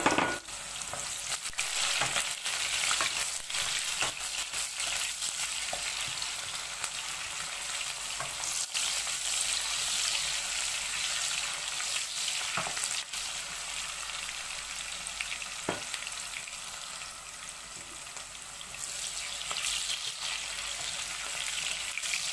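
Onion sizzles steadily in a frying pan while it is being stirred, with scattered scraping clicks from the utensil over a continuous crackle, close and moderately quiet.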